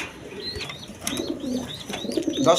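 A pair of grizzle racing pigeons, kept with a chick and a hen sitting on eggs, gives soft repeated coos and chirps at close range over a low, busy background.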